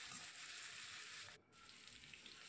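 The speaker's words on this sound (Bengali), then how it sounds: "দেখো আলুগুলো একটু ভালো করে ভেজে নিচ্ছি।" Potatoes fry in hot oil for an egg omelette curry, giving a soft, continuous sizzle at fairly low volume that dips briefly partway through before crackling on.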